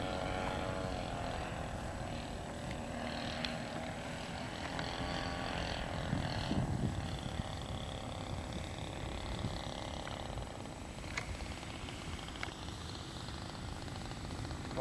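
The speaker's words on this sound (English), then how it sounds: "Like the sound of that air coming over the wing." Steady wind noise of air rushing over the wing of a Stearman biplane in flight on approach into a headwind, a continuous broad roar with engine drone underneath throughout.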